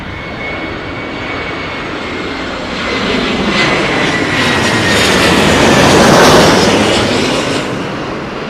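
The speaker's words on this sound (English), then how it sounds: "It looked pretty stable to me, that Iberia jet" An Iberia jet at Heathrow Airport in gusty storm wind gives a loud, continuous engine roar that swells toward the middle and then eases slightly, with no talk.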